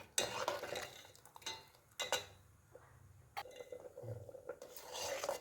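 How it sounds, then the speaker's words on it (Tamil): A ladle stirs rice and lentil pongal, a sweet kalkandu pongal, in a heavy bronze pot, scraping and clinking against the metal in irregular close strokes with faint sizzling between them. "அந்த அரிசியும் பருப்பும் அப்பப்போ அடி பிடிக்காமல் அப்பப்போ கிண்டிக்கிட்டே இருக்கணும்"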